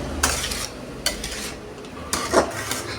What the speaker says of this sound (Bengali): শাকটাকে নেড়ে দেবো।